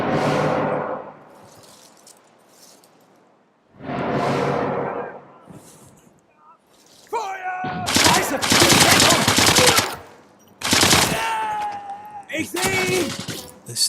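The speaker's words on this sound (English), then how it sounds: "This Sten gun is amazingly accurate." Sten gun fire in Sniper Elite 3, loud bursts of automatic gunfire in short clusters, separated by stretches of talking.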